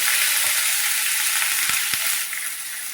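Potatoes and tomatoes frying in oil in a pan, a loud, bright, steady sizzle close by with a few soft knocks and stirs, easing slightly near the end.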